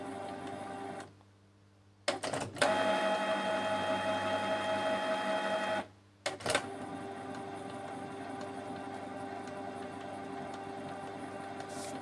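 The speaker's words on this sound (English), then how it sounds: "Let's do nozzle check." A Canon G-series inkjet printer, showing a support code 5200 error, runs a nozzle check print: mechanical clunks start it up, then a steady whirring and buzzing print head pass, a brief pause, and more clicks before the whirring resumes.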